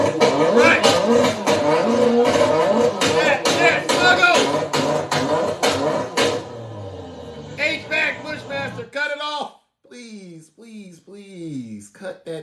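A voice imitates a sputtering car engine that fails to start, a long run of choppy, rattling bursts that break into separate whining coughs and trail off into pauses.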